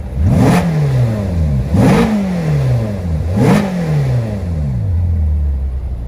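A Ferrari California's engine revs hard three times in a row, each burst climbing steeply then falling away, loud and close with a steady idle rumble between blips and at the end.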